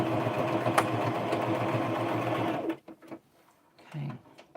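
Home sewing machine stitching a homemade doll, a steady, fast mechanical whirr that runs loud and close for a few seconds, then stops, leaving faint handling noises.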